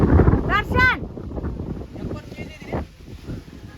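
Wind buffets the microphone on Matanga Hill in Hampi, a low rumbling gust that roars loudest at the start and keeps blowing under people talking.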